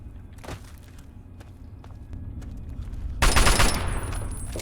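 Gunfire in Fallout 3, a few isolated shots and footsteps early on, then a loud sustained burst of automatic fire in the final second and a half.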